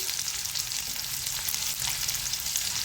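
Finely chopped onion and green chili fry in a pan with cumin, making a loud, dense, continuous sizzle that stays even from start to finish with no voices.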